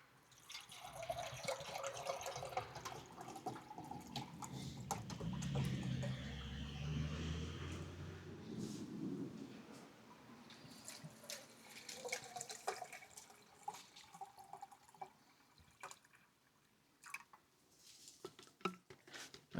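Water pours steadily into two camping stove pots, an OEX Heiro stove pot and a Jetboil, with a gushing stream that fades midway, followed by scattered drips and small clinks of the pots, close by and with no talk.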